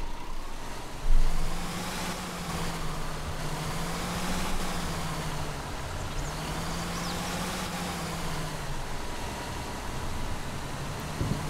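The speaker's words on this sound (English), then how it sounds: "Your Euro 6 engine is at work." A Euro 6 coach bus engine in Fernbus Coach Simulator drones steadily at cruising speed, a low hum that gently rises and falls over road and wind noise, with one brief thump near the start.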